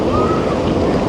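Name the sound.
ocean waves breaking against rocks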